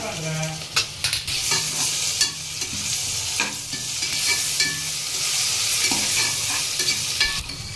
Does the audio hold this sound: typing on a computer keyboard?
no